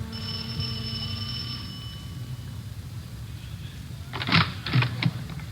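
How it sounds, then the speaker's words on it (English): A doorbell rings at the front of a house, a few quick chiming dings near the end after a quieter stretch of steady background tone. "We went up the front stairs and rang the doorbell."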